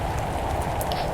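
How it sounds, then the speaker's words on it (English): Acid rain falling in the Roblox-style video game Natural Disaster Survival, a steady close hiss of rain pattering on surfaces with no pauses or talk. "Acid rain takeover."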